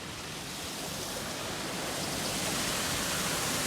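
A creek rushes by a swimming hole in a national forest, a steady broadband wash of flowing water that swells slightly louder over a few seconds, with no voices.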